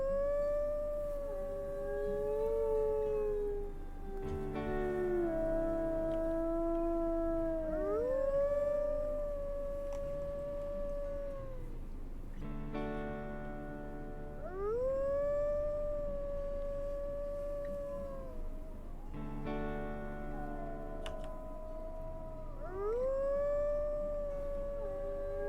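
Several wolves howl in the video game WolfQuest, long rising and falling tones overlapping in waves, steady and clear, with no talk over them.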